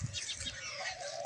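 Sparrows at a morning feeding, wings fluttering and birds chirping close by, a busy continuous mix of small calls and flapping throughout.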